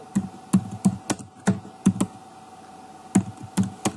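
Typing on a computer keyboard: a run of crisp, close key clacks in short irregular bursts with brief pauses, loud and alone.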